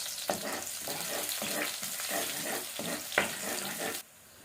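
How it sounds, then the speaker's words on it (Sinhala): Chopped garlic frying in hot coconut oil in a pan, a soft, steady sizzle with faint crackles and a couple of louder pops, quiet and close, ending abruptly. "තෙල් ටික හොඳට රත් වුණාට පස්සේ අපි කපාගත්ත සුදු ලුණු ටික එකතු කරගන්න"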